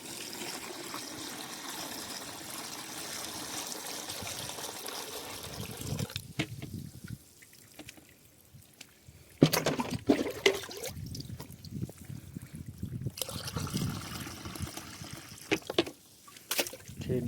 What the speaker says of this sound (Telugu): డ్రమ్ముని ఇంకా నీళ్ళు పోసుకోవాలి ఇప్పుడు.